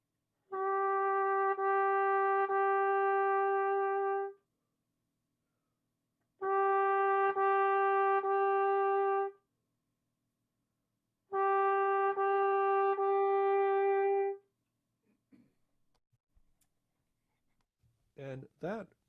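Trumpet in a workshop demonstration: three long, steady held notes, each starting with a breathy attack and separated by pauses, clean and close, followed by a brief quiet scrap of sound at the end.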